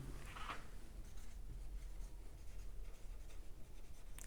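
Marker or chalk writing on a board during a chemistry lesson about amines, a faint scratchy stroke near the start and then steady soft scraping under a background hum, with no voice.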